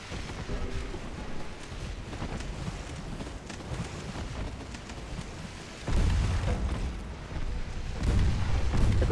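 Heavy naval guns from a battleship engagement in the game Ultimate Admiral: Dreadnoughts boom repeatedly in a dense, rumbling barrage, with louder, deeper blasts toward the end and no talking.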